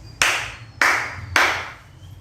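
Three sharp hand claps, evenly spaced about half a second apart, close and clear against a quiet background.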